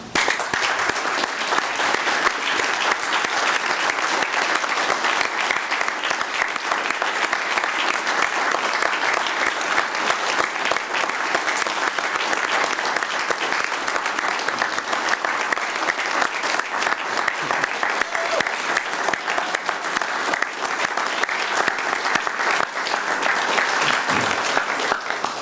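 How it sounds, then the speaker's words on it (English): An audience at an Eagle Scout Court of Honor gives Eagle Scout Martin Randall Openshaw a sustained round of applause, dense and steady for about 25 seconds with no talk over it. "let's stand up and give a last round of applause and congratulations"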